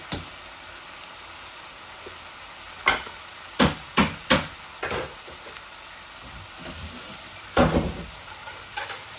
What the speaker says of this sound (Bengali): এই মশলার মধ্যে আমি আলুগুলা দিয়ে দিচ্ছি